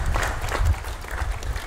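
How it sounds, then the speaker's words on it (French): Scattered applause rises briefly from a gathering, soft and somewhat distant, mixed with low crowd murmur. "Quelques discrets applaudissements quand la banderole se déploie"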